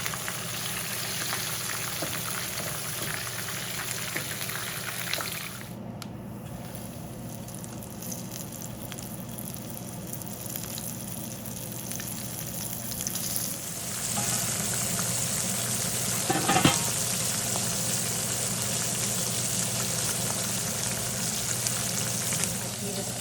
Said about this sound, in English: So the smaller piece can fry fast, the bigger piece takes long.